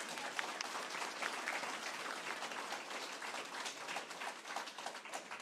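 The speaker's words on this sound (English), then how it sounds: "Give Iram Lewis a round of applause." A town hall audience on immigration breaks into sustained applause, dense overlapping clapping that stays loud and steady for several seconds with no break.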